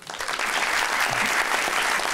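Studio audience applause on a Pakistani TV talk show, a dense, steady wash of clapping that stays loud and even from start to finish.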